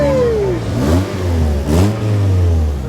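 Mazda Miata engine revving at a car meet, several rising and falling rev sweeps, fairly close and loud with no talk.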